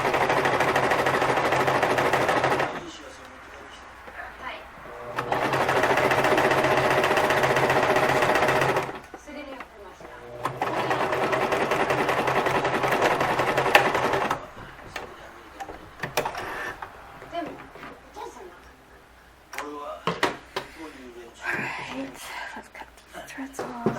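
A sewing machine stitches fabric pleats in loud, steady bursts of rapid mechanical whirring, separated by pauses and softer handling noises and brief quieter runs.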